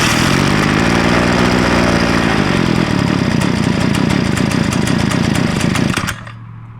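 A small primed pit bike engine buzzes loud and raspy close by for about six seconds, then sputters and dies, leaving only a faint low hum.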